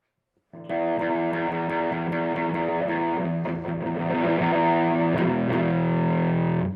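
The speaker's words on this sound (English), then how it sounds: "it's kind of like a fuzzy. Kind of like a more of a power amp distortion." A fuzzy, distorted electric guitar through a distortion pedal on its all-low setting sustains loud chords without pause, with a thick, buzzing tone and no voices.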